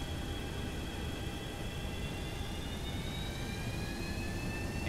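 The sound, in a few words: FlyJSim 737-200 jet engines taxiing, from X-Plane video game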